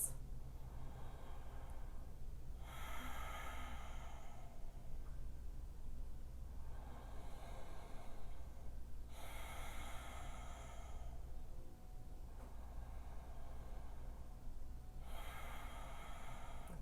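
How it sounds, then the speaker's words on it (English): Slow, deep breathing during a beginner yoga session in downward facing dog, with several long, soft breaths evenly spaced, close and faint over a low steady background hum. "let's take a couple of breaths"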